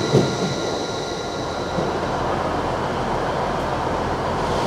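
A train idles at a station platform on a cold day, giving off a steady low rumble with a faint hiss and an occasional clank. It holds constant and fairly close, with no one talking.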